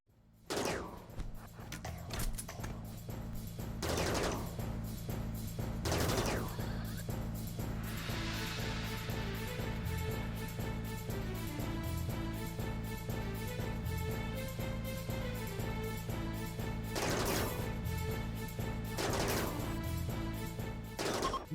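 Scattered gunshots crack out in a RimWorld battle on sea ice, several sharp reports spaced apart over a steady low game-music bed, fairly quiet overall.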